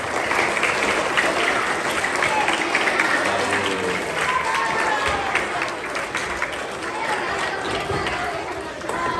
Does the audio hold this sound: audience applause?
yes